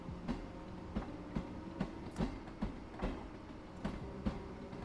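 Class 313 electric train in Train Sim World 2 rolling over rail joints, steady clickety-clack beats at an even rhythm over a continuous low rumble, fairly quiet with no talk.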